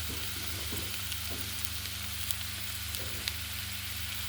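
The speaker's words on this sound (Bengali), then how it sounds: "এবার একটু আদা বাটা দিচ্ছি" Ginger paste fries with onions in a pan for a village-style rohu fish curry with figs, giving a steady, even sizzle with faint stirring clicks throughout.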